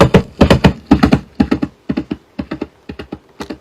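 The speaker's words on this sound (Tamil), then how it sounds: "இது நமக்கு பரிச்சயமான குதிரையோட சவுண்ட்." Horse hooves pound along at a gallop in a repeating three-beat pattern of sharp, close knocks, loud at first and then growing lighter, with no voices or other sounds.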